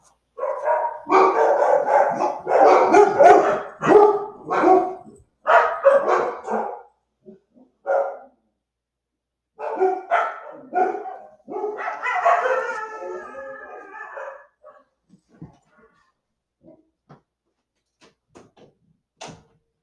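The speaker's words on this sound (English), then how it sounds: "sorry about the dog noises there." A dog barks in rapid bursts up close, then breaks into a drawn-out howl that trails off into a few scattered yips.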